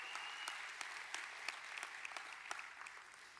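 Audience at a church service giving polite applause, a steady patter of many hands clapping at moderate distance with no voices over it.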